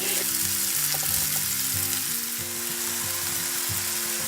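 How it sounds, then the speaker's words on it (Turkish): Shish kebabs frying in a pan, giving a steady close sizzle with soft crackling and occasional stirring or turning sounds, and no talk. "Bir taraf kızardıktan sonra diğer tarafı kızartıyoruz."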